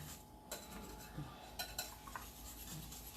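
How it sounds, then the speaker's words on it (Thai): Tapioca starch being stirred into water for a Thai tea custard, with a utensil clinking and scraping against the bowl in a few quiet, irregular taps over soft background hiss. "แล้วก็คน ให้แป้งมัน เนียนละลายไปกับน้ำทั้งหมดนะ"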